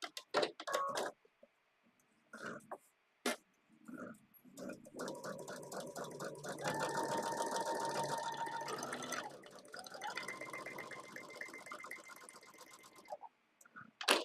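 A sewing machine stitches a paper-pieced pillow block at a 1.2 stitch length, starting with a few short bursts, then running in a steady, fairly close whir for several seconds before stopping, with some handling noise.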